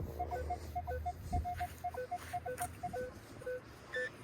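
A Minelab Equinox metal detector with a 15-inch coil signals over a buried clad dime, giving a string of short, clipped electronic beeps at two pitches in a quick irregular rhythm over faint outdoor background hiss.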